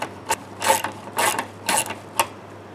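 Ratcheting wrench clicks in four short, close bursts while a fuel line fitting is tightened on a third-generation Camaro being built from the ground up, with no talk.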